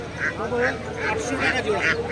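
Ducks quack in short repeated bursts at a busy Bongaon animal market, close and fairly loud over steady crowd chatter, with people talking throughout.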